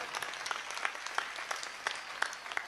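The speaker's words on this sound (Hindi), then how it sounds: "आपकी तालियों में शोर कम था, आपकी तालियां कम थी" Crowd applause at an outdoor Hindu religious march gathering, a dense, steady patter of many hands clapping at moderate distance, with a few sharper claps standing out.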